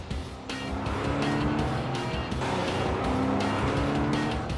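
Race car accelerating around the Camino Viejo track in the Forza Motorsport 3 video game, a loud continuous engine roar climbing through the revs with shifts and brief tire squeal.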